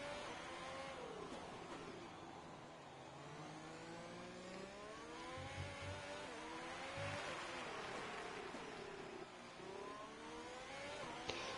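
Racing engine of a Formula 1 car in the video game F1 2020, a continuous loud whine rising and falling through gear changes as the car is driven around the track, with no pauses.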